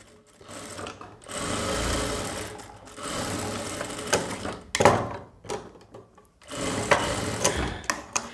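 A sewing machine stitches a blouse in several bursts of rattling, whirring runs separated by short pauses and mechanical clunks, loud and close with no talking.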